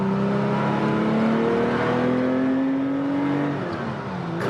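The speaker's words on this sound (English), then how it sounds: "Little heel toe downshift going into the corner, running a little wide" A 1979 Porsche 911 SC heel-toe downshifting into a corner, its engine note loud and continuous with rising, shifting pitch as the revs climb and then drop.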